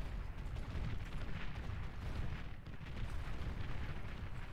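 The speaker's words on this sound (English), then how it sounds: "battles going down, shots going off." Tank battle in the real-time strategy game Beyond All Reason, a steady dense wash of rumbling gunfire and explosions rolling on continuously with no clear gaps, heard without anyone speaking.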